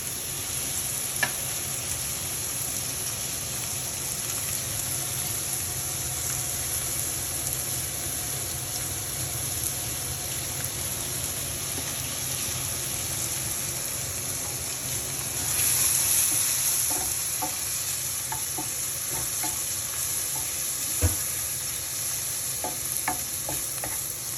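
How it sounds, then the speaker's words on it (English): Leeks and mushrooms sweating in butter in a pan give a steady, soft sizzle throughout, with occasional stirring clicks and a brief brighter hiss swell midway. "you're going to sweat it for a few more minutes inside the butter"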